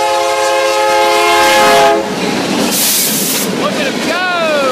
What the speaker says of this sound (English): Might be a K3L horn.